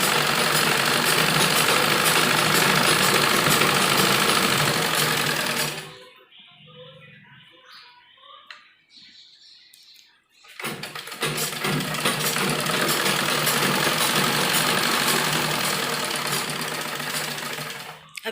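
A sewing machine stitches the seams of an umbrella frock in loud, rapid, continuous runs close by, stopping for a few seconds in the middle before starting again.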